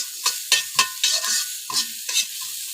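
Onion and nigella seeds sizzle in a little frying oil while a utensil scrapes through the pan in quick, repeated strokes, each stir a sharp close burst over a constant hiss.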